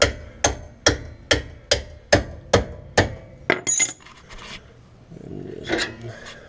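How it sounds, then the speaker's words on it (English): About eight sharp metallic hammer blows in an even rhythm, close by, hammering a bolt out of a Nissan 350Z rear suspension, followed by scraping and rattling of metal parts. "I'm gonna now hammer the bolt out"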